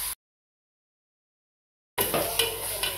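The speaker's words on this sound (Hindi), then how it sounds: "प्याज को लाइट ब्राउन होने तक फ्राई कर लें।" Onions frying with masala in a pan for Sindhi biryani, a brief burst of sizzling and stirring that starts after a stretch of silence.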